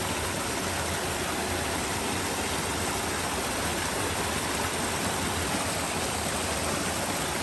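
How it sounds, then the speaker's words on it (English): A flowing stream on a nature walk makes a dense, even rush of water, loud and close, with no break or voices across the whole stretch. "I'm distracted by the water."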